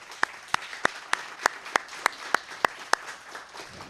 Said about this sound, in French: Je pense qu'ils méritent une bonne main d'applaudissements.